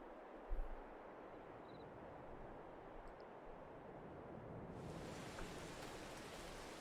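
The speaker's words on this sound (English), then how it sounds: "Right, it's raining." Rain falls in Farming Simulator 22, a soft, even broadband patter that swells slightly louder partway through, with a low thump near the start and no voices.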